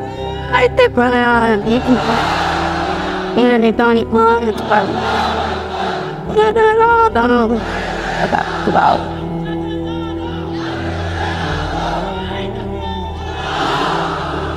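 Large audience at an Islamic lecture by a preacher shouting takbir in unison, several loud rhythmic bursts of massed voices answering the preacher's calls, with the preacher speaking between them.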